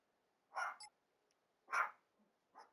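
A dog barks somewhere in the room during a Madden NFL football game session: two or three short, fairly faint barks spaced about a second apart, with quiet gaps between them and no talk over them.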